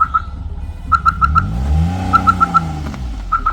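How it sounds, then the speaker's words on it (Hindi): A car being parked on a hillside village road gives off repeated evenly spaced electronic beeps in short bursts, likely a parking or reverse warning, over a low engine hum that swells and fades, with no speech. "पार्किंग लगा रहे हैं गाड़ी को"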